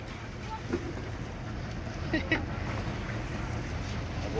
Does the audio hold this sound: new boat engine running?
yes